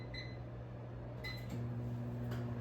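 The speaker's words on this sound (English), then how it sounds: "And I'm gonna microwave them for 7 minutes" A low steady hum of a microwave oven cooking Brussels sprouts, with a faint electronic tone shifting partway through.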